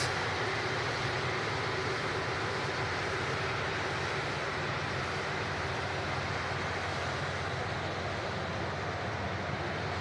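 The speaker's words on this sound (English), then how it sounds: "This Virgin 330 on the taxi out" A Virgin Atlantic Airbus A330 taxiing out at Manchester Airport, its jet engines a steady, even broadband roar with a low hum underneath, unchanging throughout and with no talk.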